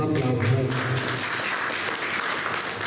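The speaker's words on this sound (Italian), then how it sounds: "questa poesia, un applauso" Audience applause following a poetry reading at an Italian literary event, a dense wash of clapping that starts loud with some voices mixed in at the outset and carries on steadily through the clip.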